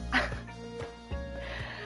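Dog barks and yips from the video game Spelunky 2, a few short electronic-sounding barks over steady game music, near and moderately loud.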